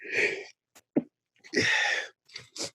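A person sneezes twice in close succession, each a sharp inhale and explosive burst, with small sniffs and breaths between, close to the mic.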